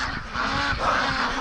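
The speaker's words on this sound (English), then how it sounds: "Just look at them. Yes, ducks." A flock of domestic ducks waits to be let out for their morning release, their dense, overlapping honking calls continuous and close throughout, with no talk.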